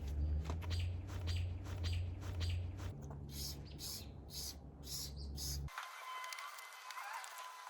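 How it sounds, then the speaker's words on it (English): Birds chirping loudly outdoors in the evening, repeated sharp close tweets and calls in quick bursts over a low steady hum that drops away near the end, leaving fainter chirps. "if you guys hear the birds, don't mind the birds because they're loud."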